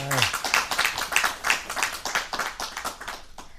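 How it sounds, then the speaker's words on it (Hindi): Audience applause welcoming a renowned lyricist onto a Hindi talk programme: steady, dense clapping from a crowd, close and moderately loud throughout, fading slightly at the end. "तालियों से आप स्वागत करें इनका।"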